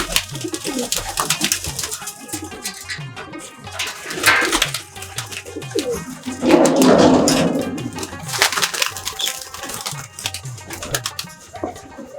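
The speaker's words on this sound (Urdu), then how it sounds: "ساتھ والے روم میں ہمارے پرواز والے کبوتر بھی ہیں" Flying pigeons kept in a rooftop loft coo steadily at close range, their soft throaty calls overlapping one another with a little rustling in the room.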